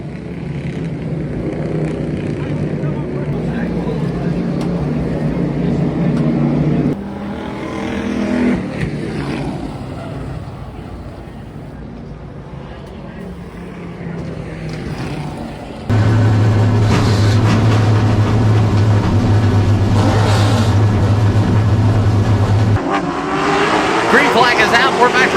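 Race cars roar around Hickory Motor Speedway, a loud engine drone that drops back mid-way and then surges again with a strong, steady low rumble as a voice talks over the racing.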